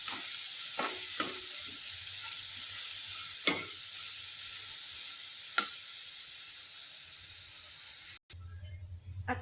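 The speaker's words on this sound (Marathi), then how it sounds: "जास्त नाही भाजायचे आपल्याला, हे फक्त 2 मिनिट भाजून घ्यायचे आहे।" Whole moong beans dry-roasting in a pan give a steady soft hiss, broken by a few sharp stirring scrapes and clicks, with a brief pause and shuffle near the end.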